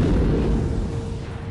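Deep, rumbling explosion effect for a star blowing apart in a supernova, a heavy low boom that fills the space and then slowly fades.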